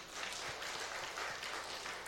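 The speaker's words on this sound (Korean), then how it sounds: "박수 한번 쳐줘요." A church congregation at a Friday prayer meeting breaks into steady, dense applause, many hands clapping together at moderate distance with no voices over it.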